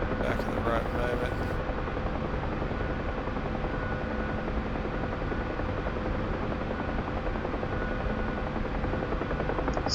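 A helicopter flies during practice, its steady rotor and engine drone filling the whole stretch at an even, close level, with a brief faint high tone near the start.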